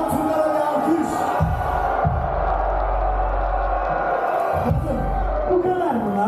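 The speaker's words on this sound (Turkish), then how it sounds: "Bağırın şu an kızlara bir alkış." A concert crowd at a show in Ankara cheers and shouts together, a loud, sustained roar of voices that swells and fades over several seconds, with some whoops rising above it.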